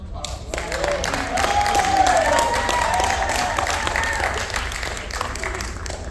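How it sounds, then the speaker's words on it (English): A round of applause at a North Miami Beach city commission meeting, with clapping that builds and holds steady, mixed with room noise and a few voices. "we have to give a double round of applause"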